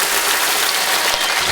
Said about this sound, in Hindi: एक बार प्रकाश शास्त्री के लिए जोरदार ताली बजाएं।